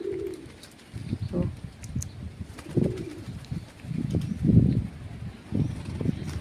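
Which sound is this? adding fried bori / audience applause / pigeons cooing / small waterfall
pigeons cooing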